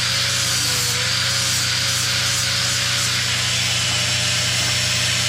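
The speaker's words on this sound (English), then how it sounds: "Just grind a little bit." A power grinder works steadily on a metal part of a 75 lb to 250 lb trolley assembly, giving a loud, continuous abrasive whine and rasp that runs unbroken close to the microphone, with no voices.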